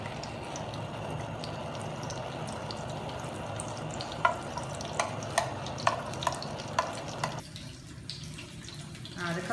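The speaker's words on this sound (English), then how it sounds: "It's already starting to sizzle a little bit." Crushed garlic sizzles in olive oil in a pan, a low, steady frying hiss with a series of sharp clicks and taps of stirring in the middle, fairly faint throughout.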